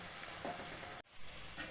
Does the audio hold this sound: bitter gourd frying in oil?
yes